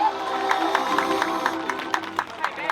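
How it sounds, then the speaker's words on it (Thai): Audience applause at the crowning of a beauty pageant, the Thida Lai Ruea Fai contest in Nakhon Phanom, Thailand, 2024. Clapping swells from a crowd beneath an announcer's voice. "ขอเสียงปรบมือดังๆครับ"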